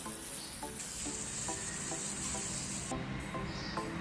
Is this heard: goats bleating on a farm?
no